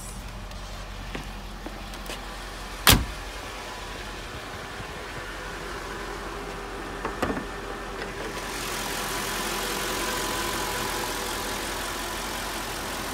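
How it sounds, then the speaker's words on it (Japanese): A Mercedes G500 V8 engine idles with the bonnet open: a low steady hum broken by a sharp clunk and a few small knocks, then a broader hiss rises in the final seconds. "V8 エンジンですね。"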